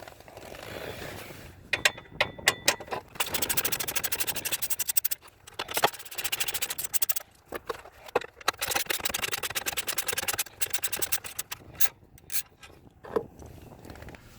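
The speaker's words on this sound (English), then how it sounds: "We'll remove them with a 10mm socket." A 10mm socket ratchet removes airbag bolts inside a 2013–2014 Ford F-150 cabin, rapid ratcheting clicks in repeated bursts with short pauses, close and clear with no talking.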